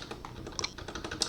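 Rapid keystrokes clack on a computer keyboard, a quiet, close, steady patter of clicks with no voice.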